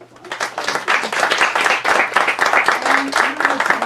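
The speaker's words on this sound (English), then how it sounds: "Let's give Greg a round of applause." An audience at an author event for Gregg Hurwitz breaks into applause, ragged at first then a full, fairly close round of clapping that holds steady, with a faint voice underneath near the end.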